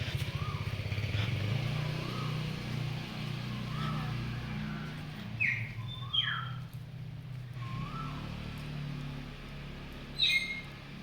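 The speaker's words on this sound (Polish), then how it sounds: "Tutaj witają nas ptaszki." A few short, high bird chirps come in small bursts over a steady low engine hum, faint and somewhat distant, at a beach hotel on Koh Tao, Thailand.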